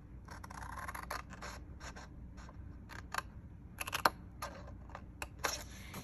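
Scissors cut through paper while a slimline card is trimmed, with short snips and rustles in an irregular rhythm, close and fairly quiet, with no talking.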